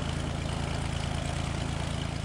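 A small propeller plane's engine in Airport Master drones steadily at close range, a low pulsing buzz with a rapid even beat that holds constant throughout, no talking.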